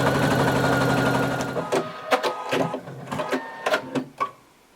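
Sewing machine sewing a folded dress hem, a steady mechanical whir for about two seconds, then slowing into a series of short uneven clicks and thumps.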